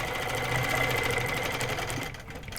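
A quilting sewing machine runs fast and steady, close up, stitching along a line guided by a grid ruler. Its even mechanical hum and rapid needle rattle slow and soften near the end.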